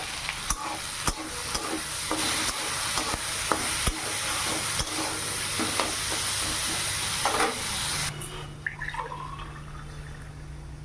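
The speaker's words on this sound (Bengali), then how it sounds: "এখন লবণ হলুদ দিয়ে নাড়াচাড়া করে ঢেকে রাখবো" Bitter gourd fries in hot oil with salt and turmeric, a loud steady sizzle broken by repeated scraping stir strokes, then the hiss suddenly drops to a faint, quieter simmer for the last few seconds.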